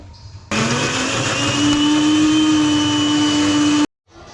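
Kitchen blender blending tomatoes with water, a loud steady whirring motor that starts abruptly, rises slightly in pitch as it spins up, runs for about three seconds and then cuts off sharply.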